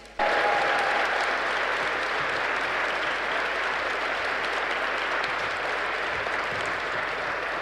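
Audience applause at a concert hall event, a loud sustained burst of many hands clapping that starts abruptly and continues evenly throughout.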